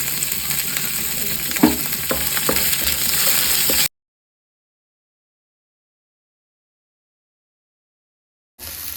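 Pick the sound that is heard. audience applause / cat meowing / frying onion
frying onion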